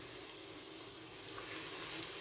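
Finely chopped onion frying in hot oil in a pan, a faint steady hiss and sizzle that swells slightly near the end.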